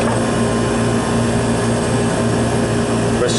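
A walk-in freezer compressor at a school lunch facility runs with a steady, loud, unbroken hum and droning mechanical tone, holding evenly from start to finish.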